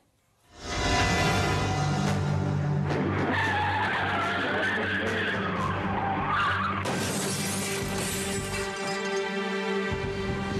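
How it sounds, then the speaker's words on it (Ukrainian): A Mercedes skids across the oncoming lane on a Kyiv city-centre square and slams into three cars: a sudden loud onset of tire screech and grinding impact noise that carries on for several seconds, with shattering metal and glass. "Ось це мерседес посеред Бесарабської площі вилетів на смугу зустрічного руху та протаранив одразу три легковики."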